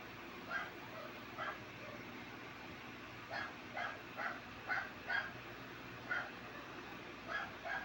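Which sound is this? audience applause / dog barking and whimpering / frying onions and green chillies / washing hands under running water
dog barking and whimpering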